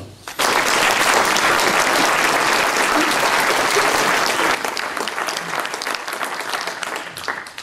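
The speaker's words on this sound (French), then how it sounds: "Je pense qu'on peut les applaudir." A crowd applauds at a French mayor's New Year greetings ceremony, bursting in suddenly with loud, dense clapping that holds steady, then thins and softens toward the end.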